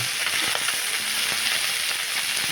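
Small bata fish frying in hot oil for a Bengali fish curry, giving a steady, close, dense crackle that holds evenly throughout, with a few soft knocks underneath and no voices.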